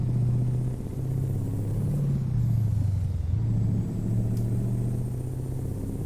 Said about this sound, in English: I just love the sound of this engine